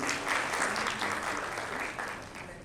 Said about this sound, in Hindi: अपने लिए जोरदार तालियां बजाएं.